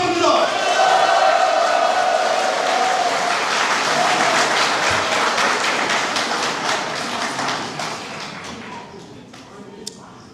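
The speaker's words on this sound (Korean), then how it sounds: "또 박수 내주시기 바랍니다." A crowd applauds loudly at a Daegu mayoral candidate's acceptance speech, with sustained clapping that gradually thins and fades toward the end.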